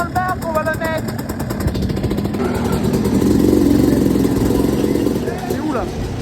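Motorcycle engine revving inside a bar, a loud, close, rough roar that swells and holds with throttle blips, mixed with people talking and shouting nearby.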